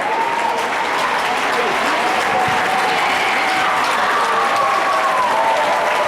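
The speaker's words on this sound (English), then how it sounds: "Now the crowd getting into it with a minute 4 left to play." A gym crowd at a high school memorial basketball game claps and cheers in a loud, continuous roar that holds steady throughout, with shouts rising from the stands.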